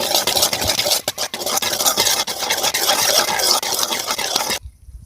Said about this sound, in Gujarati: હવે આને સારી રીતે આપણે મિક્સ કરી નાખવાનું છે